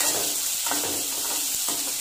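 Crushed small onions fry in hot oil in a pan, giving a loud, steady close sizzle with a couple of stirring scrapes.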